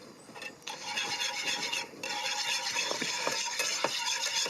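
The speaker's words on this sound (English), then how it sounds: "Whisk it off the heat" Butter being whisked into a sauce off the heat in a studio kitchen, a steady scraping, stirring rasp of whisk against pan, close and continuous with faint sizzle beneath, no talking.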